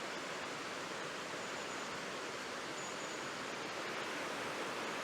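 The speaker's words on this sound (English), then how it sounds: "Really nice piece of river" The River Dart rushes through woodland, a steady, broad, close wash of flowing water with no breaks and no voices.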